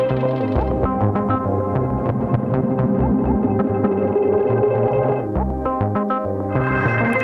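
Hologram Electronics Microcosm effects pedal turning input into weird, shimmering textures: dense layered tones with stuttering, rhythmic pulses and echoing repeats, steady and loud throughout, with a brief dip near the end before the texture swells again.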